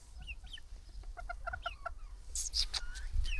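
Farm chickens cluck and chatter in quick repeated calls, fairly close, with a couple of sharper, higher squawks near the end over a low steady background.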